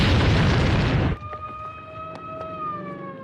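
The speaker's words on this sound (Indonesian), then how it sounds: "Bishop berhasil menembak tangki gas itu yang seketika meledak" A gas tank blows up in a film scene: a loud, dense roaring blast that cuts off after about a second, leaving tonal whines and faint sirens ringing in the aftermath.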